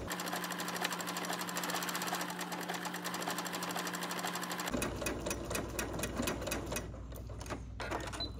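A sewing machine stitches an overcast edge on fabric, running in a steady, loud mechanical whir with a rapid needle chatter that shifts in pace partway through, with no talking.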